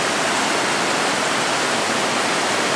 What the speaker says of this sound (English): listening to this water, the waterfall